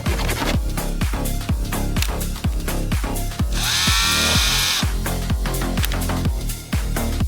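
Chainsaws rattle loudly and continuously with a fast, chopping engine pulse; midway a high whine rises as a blade revs, then settles back.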